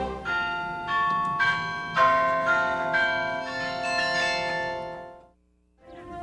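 Bright, resonant bells ring in a rapid, overlapping sequence with long sustained tones, then stop for a brief silence before a final strike.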